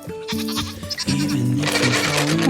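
Farm goats bleat loudly and close in several overlapping, wavering calls, with cows nearby, one cry following another with short gaps and no speech over them.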